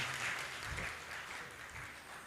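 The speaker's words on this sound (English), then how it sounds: "A round of applause" Applause at a formal legal awards dinner in Nairobi, a steady crowd clapping that stays fairly even and moderately loud for the whole stretch, with no talk over it.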